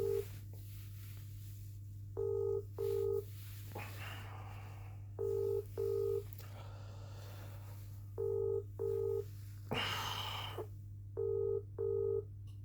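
Telephone call on a line with a steady low hum: paired beeping ring tones repeat at even intervals, with short bursts of line noise between them.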